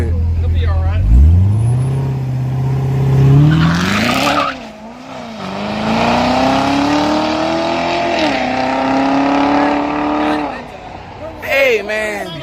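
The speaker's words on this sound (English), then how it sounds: "That car really fast." A drag racing car at the Yellow Belly Drag Strip in Dallas roars close and loud, its engine pitch climbing through gear changes with a tire squeal as it launches. People talk over it.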